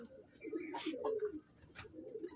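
An aggressive female Andhra breed pigeon coos in low, throaty bursts while being held, close by with a person talking over it.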